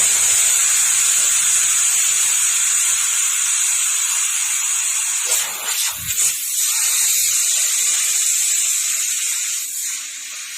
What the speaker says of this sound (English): you can release the pressure immediately after 3 whistles. But be careful, there will be hot air escaping.